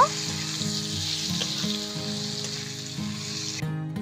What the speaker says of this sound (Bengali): নেড়ে নিয়ে বাদামি আলুগুলো একটু লালচে করে ভেজে নেব।